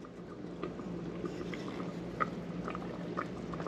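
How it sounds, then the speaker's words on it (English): Birria meat braises in a pot, giving a quiet, steady simmer with soft scattered pops and bubbles close by, no voices. "I can hear it bubbling."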